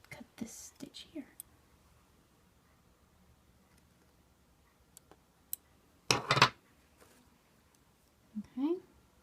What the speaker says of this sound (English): I'm going to cut this stitch here.